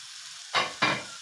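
Two short bursts of hissing sizzle a quarter second apart, loud and close, over a faint low background hum.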